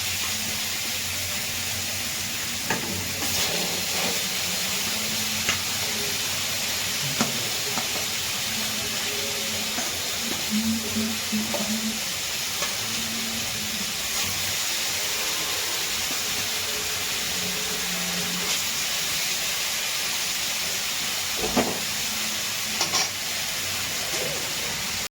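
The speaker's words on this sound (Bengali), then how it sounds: "আর কটা মাছ ভেজে নেবো" Hilsa fish frying in a pan give a constant loud hiss and sizzle for the whole stretch, close and steady, with faint clatter and scraping underneath.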